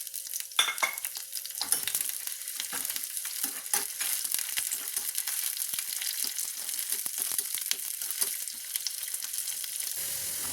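Curry leaves and chopped shallots sizzle in hot oil in a pan for a Kerala fish curry, a close, steady crackling fry with scattered stirring scrapes and no talking.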